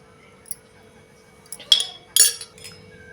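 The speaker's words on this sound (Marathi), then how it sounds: "आणि आता या मुरलेल्या लिंबूच्या फोडी ह्यामध्ये टाकून घेऊया." Matured lemon pieces go into jaggery syrup for a lemon pickle, giving two or three brief, close clinks and clatters against the jar, with quiet pauses around them and no talk.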